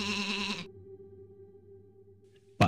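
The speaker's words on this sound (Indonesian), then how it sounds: "tiba-tiba salah satu domba mereka mengeluarkan suara" A single sheep gives a loud, wavering bleat lasting about half a second, followed by quiet low background hum and a sharp brief noise at the end.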